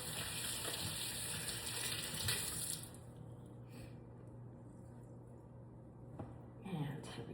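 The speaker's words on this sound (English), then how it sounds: "I'm going to rinse my hands off real quick here" Running tap water as hands are rinsed after seasoning chicken, a steady broad rush for about three seconds that then drops away, leaving quieter kitchen noise with a few brief splashes and handling sounds; a voice talks over it.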